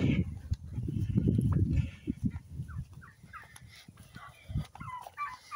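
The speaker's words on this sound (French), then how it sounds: "On va aller voir les dindes là-bas." Bursts of gobbling from a flock of domestic turkeys in a farm poultry yard nearby, loud at first and then in scattered, quieter calls, with outdoor background noise.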